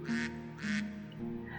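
A duck gives three distinct nasal quacks in an even rhythm, each short and fairly close, with brief quiet gaps between them and nothing else around.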